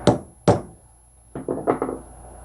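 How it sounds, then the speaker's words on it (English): Light metal-on-wood taps as a drive center is seated into a divot in a cue stock blank: two sharp knocks, a pause, then a quicker cluster of four softer taps. "put that into the divot that you just created, tap it a couple times"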